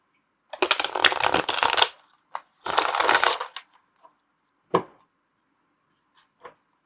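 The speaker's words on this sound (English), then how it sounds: "Tarot of Echoes, another one of my favorite decks. Also very, very easy to shuffle" Two bursts of a Tarot of Echoes tarot deck being riffle-shuffled, each lasting over a second, followed by a few scattered taps and clicks of cards being handled, close and quiet with no talk.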